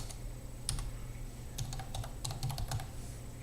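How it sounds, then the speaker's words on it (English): Fingers typing on a computer keyboard, soft clustered key clicks in short bursts, faint and close, with no voices. "you can look up groups very simply by going here and typing in"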